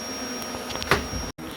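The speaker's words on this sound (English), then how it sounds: "So I've got the bee vac started." Bee vacuum running during a beehive relocation from a roof, a steady whining motor drone with a brief rising squeal near the middle and a sharp momentary dropout before it carries on.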